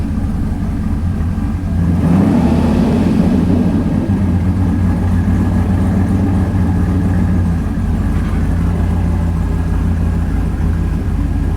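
A Datsun 280ZX engine with an LS swap idles loudly and steadily nearby, a deep, slightly lumpy rumble that holds for the whole stretch.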